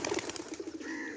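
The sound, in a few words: racing pigeons cooing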